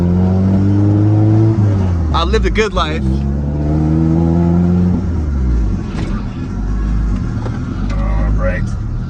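Manual Acura Integra pulling away in first gear, engine revving up in rising tones, dropping and rising again, loud and close, with people talking over it.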